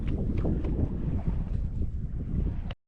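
Steady wind roars across the microphone while sailing a small boat on the sea off Ocheon Port, a continuous loud rush with water and hull noise before it cuts out briefly at the end.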